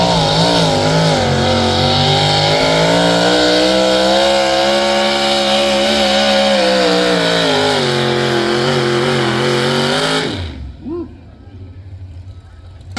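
A turbine-powered tractor at a tractor pull screams loud and close with a high, sustained whine and a roaring rumble that drops away sharply near the end, leaving faint background noise.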